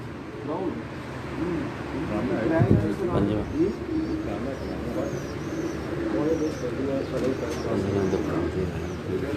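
Teddy pigeons cooing at a breeder's home, repeated low throaty coos layered over crowd noise and people talking nearby, with occasional faint chirps.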